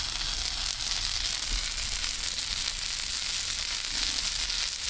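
Vegan whole wheat pumpkin sourdough pancakes sizzle steadily in a hot pan, a dense, continuous hiss that stays loud and even throughout with no talking.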